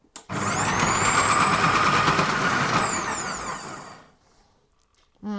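An electric kitchen appliance with its lid locked in place spins up abruptly into a loud, steady high-pitched whir, holds for about three seconds, then winds down to quiet before a brief sound at the very end.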